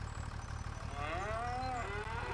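Cattle in Farming Simulator 25 moo from a 40-cow enclosure: one long, drawn-out, rising-and-falling moo stands out over a steady ticking, rhythmic game background, with no talking.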